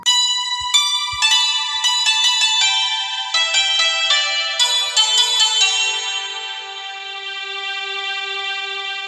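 A santoor tone layered with stereo strings plays from a mobile keyboard app: bright struck, bell-like notes in quick melodic runs over a sustained string pad, ringing out clearly and alone with no talk.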